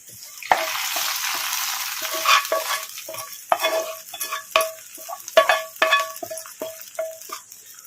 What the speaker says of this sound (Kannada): ಈಗ ಒಗ್ಗರಣೆ ಹಾಕ್ಕೊಂಬಿಡೋಣ ಬದನೆಕಾಯಿ ಪಚ್ಚ ಪುಲ್ಸಿಗೆ.